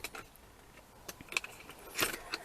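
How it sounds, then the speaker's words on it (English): New socket set being handled, with quiet metallic clinks and rattles of sockets knocking together in a few short bursts, close by and faint over a soft background. "Right, I'm going to try my nice new socket set out."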